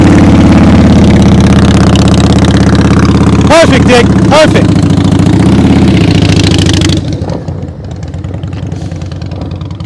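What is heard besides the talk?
motorcycle engine idling during slow speed riding practice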